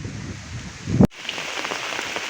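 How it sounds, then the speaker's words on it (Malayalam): Heavy rain sweeps in with force, a dense steady hiss of falling water that is briefly cut by a sharp crackle before the downpour resumes, loud and close. "പിന്നെ ദാണ്ട മഴ ഇരച്ചിരച്ച് വരികയാണ്"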